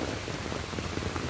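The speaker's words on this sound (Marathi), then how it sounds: "पाऊस, इकडं तिकडं नुसता पाऊसच पाऊस." Steady rain falls everywhere, a dense even patter of drops on surfaces with no pauses, loud and close.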